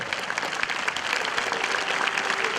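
An audience at a Patel community opening event applauds in a dense, steady burst of clapping that holds at even strength throughout.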